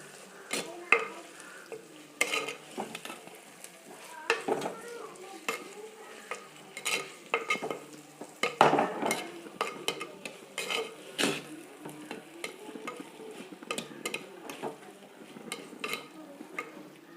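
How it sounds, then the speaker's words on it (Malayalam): Onions and chopped tomatoes frying in a pan while being turned over, a soft steady sizzle broken by frequent scraping and clicking spoon strokes against the pan, near and moderately loud. "ഒന്ന് നന്നായിട്ട് മറിച്ച് കൊടുക്കാം."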